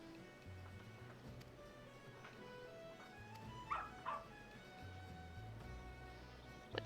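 A starved pup in the video game Final Fantasy XIV gives a couple of short, high whimpering yips, fairly faint against soft, sustained game music.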